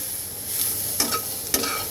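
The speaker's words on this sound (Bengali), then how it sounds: "এবার মশলাটার সাথে কচুটাকে খুব সুন্দর করে মিক্স করে দেবো" Taro is stirred into turmeric and coriander powder in a pan, a soft frying hiss with two distinct scraping strokes of the spoon, close up and alone.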